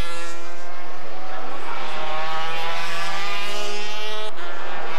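Two 250cc Grand Prix racing motorcycles, a Honda NSR and a Yamaha YZR, scream past at full throttle on a circuit, a loud high-pitched two-stroke wail sweeping by close and fading, with no talk.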